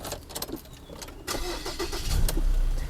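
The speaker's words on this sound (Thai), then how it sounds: "ทุกคนนี้ก็ไขเสียบไปนะทุกคนอันนี้ สตาร์ทรถนะครับ" A Ford Ranger Double Cab 2.2 Hi-Rider pickup is started with a key, the engine cranking and catching into a steady close rumble that grows louder toward the end, with no talk.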